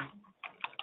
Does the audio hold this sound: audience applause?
no